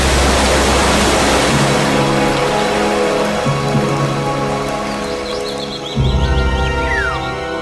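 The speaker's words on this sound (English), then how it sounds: "This is the origin of the rain, which rushes down in countless waterfalls." Steady, dense rush of heavy rain pouring down, a broad hiss with a low rumbling undertone, continuous and close throughout.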